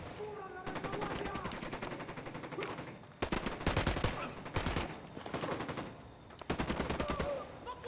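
Rapid automatic gunfire from the tactical shooter video game Ghost Recon, loud and close, coming in several long sustained bursts separated by brief pauses.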